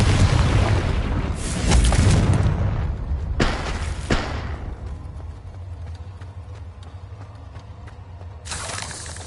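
Spell explosions from the Confringo fire curse in the video game Hogwarts Legacy: several loud booming blasts with crackling, shattering tails, the first burst long, another mid-way and a final one near the end over a steady background rumble.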